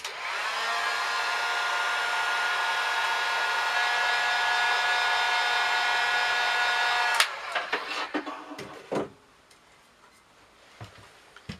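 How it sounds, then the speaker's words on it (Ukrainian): A hair dryer blows steadily for about seven seconds to heat-shrink a capsule onto the neck of a bottle of homemade wine, then shuts off, leaving a few light clicks and handling knocks. "за допомогою фена запоюємо пляшку з домашнім вином"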